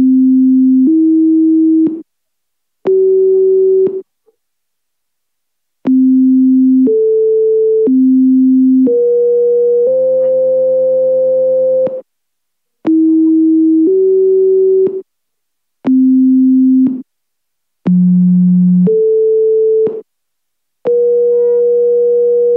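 Pure sine-wave tones generated in Python play through a speaker as a melody-like sequence of clean sustained beeps at changing pitches, each lasting about a second or more and separated by brief silences, with no talking.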